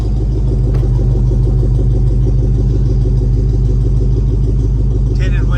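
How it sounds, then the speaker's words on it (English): A 1984 Chevrolet K5 Blazer 4x4 with dual exhaust idles nearby, a steady, loud low rumble with an even throbbing pulse holding for the whole stretch. "Listen to that dual exhaust,"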